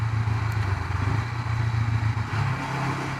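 Honda CB500X motorcycle riding over an older, bumpy road, its engine holding a steady low hum with faint rattles and thumps from the rough surface, under a wash of wind noise.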